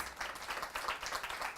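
A crowd at a career orientation event claps for disabled guests, a brief, fairly faint patter of many hands with no pause.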